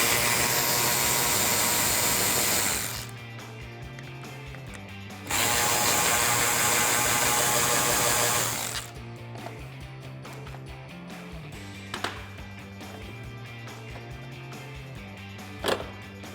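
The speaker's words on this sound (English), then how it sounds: "I got my electric ratchet and the T20 Torx bit." An electric ratchet fitted with a T20 Torx bit backs out the screws holding a 2014-2018 Silverado 1500 third brake light, with two long, loud, steady whirring bursts, then softer clicking and handling noises after.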